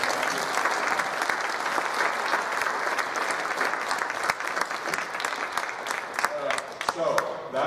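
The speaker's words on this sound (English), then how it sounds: "can we get one more round of applause for Mr." Eighth graders at a school Veterans Day program give Mr. Patrick a round of applause, continuous dense clapping from a large crowd at moderate distance, with a few voices rising near the end.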